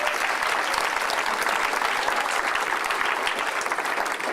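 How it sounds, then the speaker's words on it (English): An audience gives a big round of applause for the Downtown Project, dense, continuous clapping from many hands that stays loud and even throughout with no voices on top. "I just want to give Tony and the Downtown Project and Amanda a huge round of applause"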